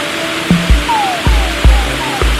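A waterfall in Lushoto, Tanzania roars as a loud, steady rush of falling water, with a few knocks and thumps from handling close by.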